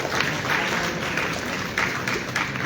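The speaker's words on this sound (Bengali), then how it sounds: "অবশ্যই তাদের জন্য তোমরা একটা করতালি দিবে আশা করি।" An audience claps together in a university auditorium, a dense, steady wash of applause that carries through the whole stretch with small swells in intensity.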